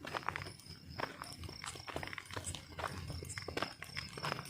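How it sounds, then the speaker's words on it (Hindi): Footsteps of a person walking alone outdoors at night, quiet and fairly close, in an irregular series of steps. "दोस्तों ये जो अभी चल रहा है वो मेरे पैरों की आवाज़ है"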